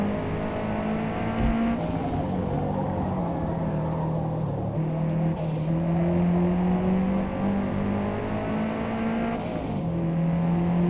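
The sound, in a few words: race car tires chittering in the Forza Motorsport video game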